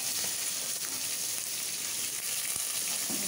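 Onion dropped into hot oil tempered with five-spice and cumin, giving a dense, steady hissing sizzle close by, with a few faint clicks of stirring and no talking.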